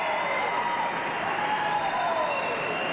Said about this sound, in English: They're still cheering the U.S. here